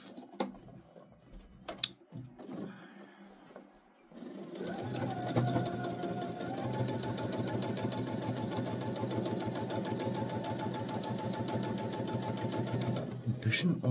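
A sewing machine closes a seam, its fast steady stitching starting after a few seconds of talk and movement and running loud and even to the end.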